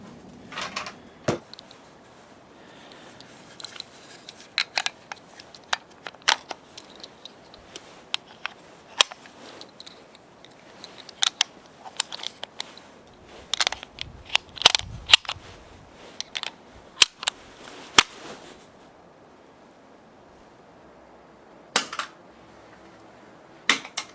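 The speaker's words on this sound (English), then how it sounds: "There's a little plastic clip in there that holds the magazine in place." A Sauer 100 Classic XT rifle magazine being seated and clicked into its small plastic retaining clip, giving a string of sharp, close mechanical clicks and snaps spaced irregularly over near silence.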